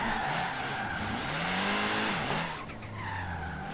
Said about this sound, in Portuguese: E vou tentar ficar fazendo tipo essa volta aqui, na verdade. Tipo isso, mas fazendo um drift.